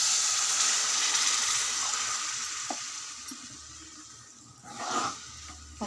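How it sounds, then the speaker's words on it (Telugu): Onions cooking in a spiced pan as water is added: a loud sizzling hiss that gradually softens, with a few clinks and a louder splash-and-stir burst near the end, heard alone without talk. "ఇప్పుడు కొన్ని వాటర్ వేసుకుంటున్నానండి."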